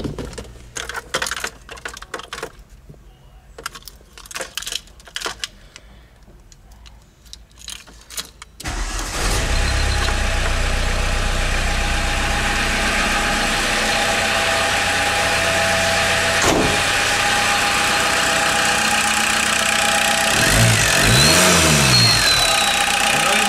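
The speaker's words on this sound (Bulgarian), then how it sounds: "Да палим ли колата?" An old car engine cranks and catches, then settles into a loud, steady running rumble that holds near and continuous for the rest of the clip, with occasional rev swells; before it starts there are scattered clicks and handling noises.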